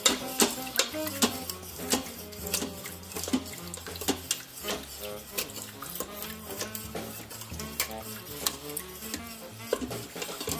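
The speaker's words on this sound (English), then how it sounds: "I'm going to pour in the broth." Broth poured into an Instant Pot while making Greek-style chicken and potatoes with peas: a steady liquid pour with scattered metallic clinks from the pot, over a low continuous backing.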